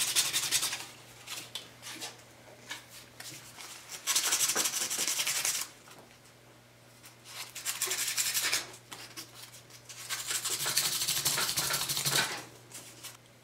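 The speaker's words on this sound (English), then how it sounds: "just a light sanding of 600 grit" Steady, close rasping strokes of 600-grit sandpaper lightly sanding a bent wood veneer ring with brass inlay in long passes, pausing briefly between bursts, with a faint hum beneath.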